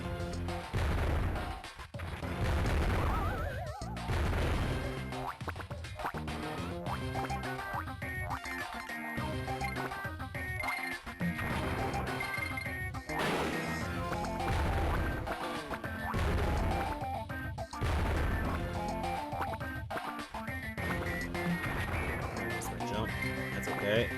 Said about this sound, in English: This level, you mostly gotta deal with bazookas.